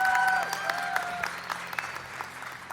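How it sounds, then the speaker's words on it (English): An audience claps for two people who shared their story, starting fairly full and then thinning into scattered, fading claps, with a faint tone lingering underneath at the start. "You can give them a round of applause."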